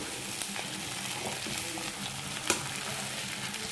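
Chicken fries with bay leaves, salt and turmeric in a pan, giving a steady close sizzle and crackle with a sharp pop near the middle and no speech.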